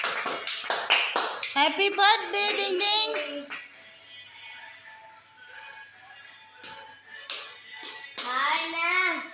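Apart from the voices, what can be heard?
hand clapping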